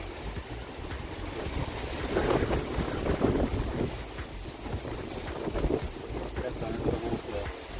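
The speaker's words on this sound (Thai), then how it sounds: "เสียงลม" Wind gusts over a boat on the water, buffeting the microphone in a continuous, uneven roar that swells and eases in waves, with water sounds beneath.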